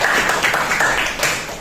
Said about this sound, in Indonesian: tepuk tangan dulu buat Antenna ya